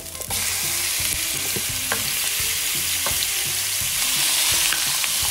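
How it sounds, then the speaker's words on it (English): Steak frying in hot oil and unsalted butter, a steady loud sizzle with faint scrapes and clinks of a utensil in the pan, no voices. "Once the oil is hot enough, I'm going to go ahead and place my steak in."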